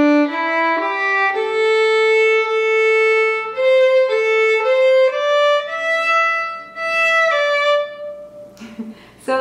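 A solo fiddle plays a phrase of the old-time tune Cold and Frosty Morning, with clear bowed notes stepping through a short melodic line, close and unaccompanied, ending on a brief scratchy noise.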